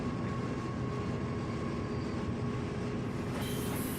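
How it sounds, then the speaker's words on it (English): A Conrail train rolls past on the Pittsburgh line in the Run 8 train simulator game, a loud, steady rumbling roar with a faint tonal whine that holds throughout. "That sounds like a Conrail train."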